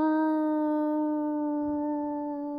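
A human voice imitates a wolf howl, holding one long, steady, clear tone that fades slightly toward the end.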